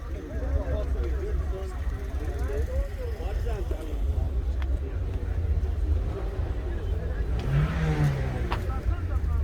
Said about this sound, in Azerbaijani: Bu da maşının qabaq səsi.